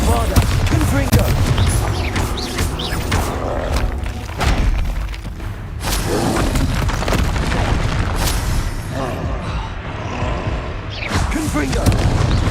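Bombarda and Confringo spell blasts in Hogwarts Legacy on PS5 land as repeated loud, close booms and thuds over a dense, continuous wash of battle noise, with voices breaking in now and then.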